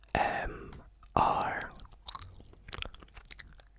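Gum chewing heard up close in a quiet room: wet, crackly smacks and squelches come in a few short bursts, with soft breathy mouth sounds between them.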